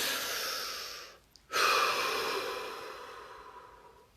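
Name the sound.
deep breathing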